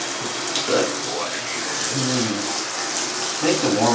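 Warm water runs steadily from a tap while a cat is bathed, a close, even hiss with faint splashes and soft talking underneath.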